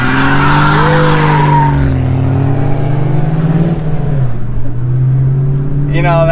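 Dodge Challenger Hellcat fitted with Continental ExtremeContact tires, its engine roaring loudly and tires squealing in a sustained scream, with voices talking over the noise.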